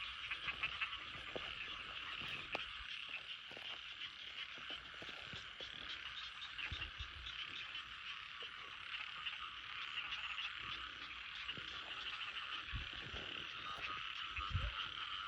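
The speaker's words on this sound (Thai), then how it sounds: "ที่นี่เลยนะกบหลาย" A dense chorus of many frogs croaks continuously in a forest stream at night, a steady layered drone with scattered nearer croaks and no voices.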